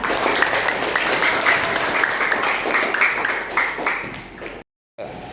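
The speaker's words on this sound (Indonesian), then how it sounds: "Tepuk tangan." Classroom applause from students in a primary religious lesson, steady dense clapping for several seconds before a brief cutoff and a quieter resumption.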